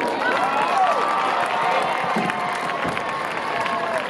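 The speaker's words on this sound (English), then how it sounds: "Let's give them another round of applause." A stadium crowd applauds and cheers for a high school marching band after its halftime show, a continuous wash of clapping and shouting voices heard from within the crowd.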